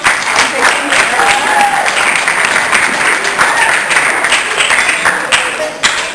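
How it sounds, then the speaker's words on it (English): An audience at a presentation on bullying and cyberbullying claps for Dr. Jackson, a dense, loud round of applause lasting several seconds with a few voices mixed in before it tapers. "Let's give Dr. Jackson a nice round of applause."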